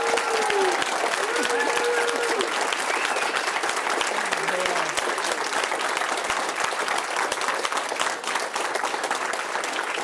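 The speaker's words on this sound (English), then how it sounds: "So we want to give him a big, big round of applause" A ceremony audience gives sustained, dense applause in a send-off for Chuck of Damar Services, an even roar of many hands clapping for the whole stretch, with faint voices mixed in early on.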